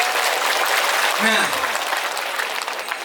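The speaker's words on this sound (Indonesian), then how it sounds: "Tepuk tangan untuk Indonesia." An audience at an Indonesian Islamic boarding school sermon claps in a dense, steady burst of many hands for about three seconds, while someone briefly speaks over it.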